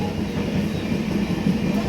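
A long-distance passenger train runs on the line toward New Alipurduar with a steady low rumble and faint wheel clatter, heard from inside the carriage.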